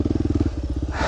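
A heavy motorcycle labors through loose sand on Cabezon Road, its engine thumping in a fast, regular pulse, loud and close, then shifting into a rougher, rising roar near the end.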